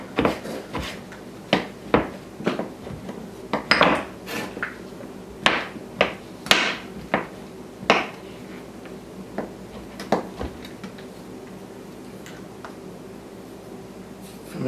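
Knife cutting cold butter into cubes for pastry, a sparse series of sharp taps and thunks on a board, irregular and close, with quiet pauses between.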